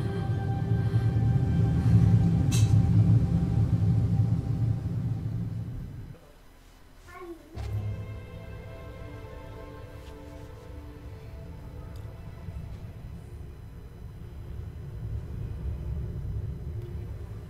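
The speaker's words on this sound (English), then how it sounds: "Storm." A storm rumbles in the video game RiME: a deep, loud, sustained roar that drops away briefly partway through, then builds again with faint creaks and tones over it.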